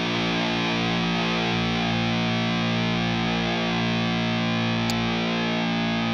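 Heavily distorted electric guitar played through an Armored Amplification Sabot 50 watt head with the Jose mode engaged, a dense, saturated tone that keeps ringing loudly without a break for the whole stretch.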